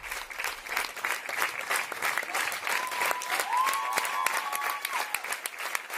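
A theatre audience gives a standing ovation to ballerina Sophie on her return to the stage after emergency surgery: dense, steady applause that holds fairly loud throughout, with a faint sustained tone rising briefly in the middle.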